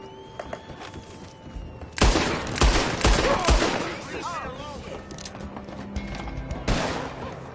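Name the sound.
gunshots in the video game Red Dead Redemption 2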